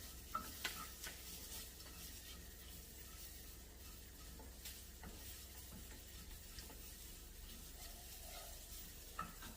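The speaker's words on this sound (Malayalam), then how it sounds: "നന്നായിട്ടൊന്ന് വഴന്ന് വരട്ടെ" Chili and turmeric powder sauté in a pan with a faint, continuous low sizzle. Occasional light spoon scrapes and taps come through, quiet and without speech.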